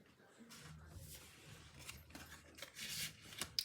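Scissors cutting a die-cut paper piece for a handmade card: faint, close snips and rustling paper in short irregular strokes, quiet overall.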